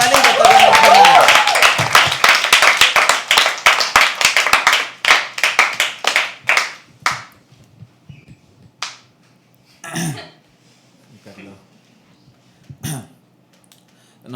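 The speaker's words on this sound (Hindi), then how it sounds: "Please start clapping for the last act of the night. दर्शन देगा वो ताली बजाओ।" Dense audience clapping at a live poetry open mic fades out over several seconds into scattered single claps, with a few isolated claps and small noises in the quiet afterward.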